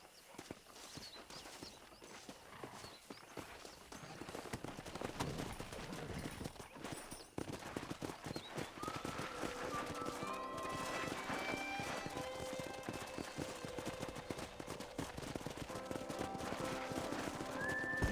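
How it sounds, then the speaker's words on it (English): Wild horses in Red Dead Redemption 2 gallop in a rapid drumming of hooves that swells from faint to loud, with neighs and whinnies rising over the rush, no voices heard. "there's a pack of wild horses nearby"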